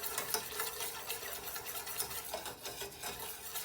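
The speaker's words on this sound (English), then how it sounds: "I'm also going to add about 1/4 cup of some powdered Parmesan cheese. And whisk that in really well" A whisk beating powdered Parmesan cheese into pizza sauce in a pan, a rapid continuous rattling whir with quick strokes, close and soft.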